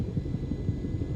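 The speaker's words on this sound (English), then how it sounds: "this is the most realistic helicopter in Forefront" A simulated helicopter in the DCS World flight game, its steady rotor and engine drone throbbing with a fast, even beat from inside the cockpit, brief and moderately loud with no talking.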